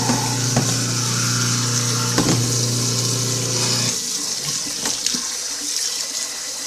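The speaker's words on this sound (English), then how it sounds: "So I'm going to let this soak for a while, and hopefully we can get all of that stuff off" Tap water runs steadily into a dirty Instant Pot inner pot to soak it, a loud, continuous splashing stream with a low filling tone that cuts off partway through, followed by quieter dripping and faint clinks.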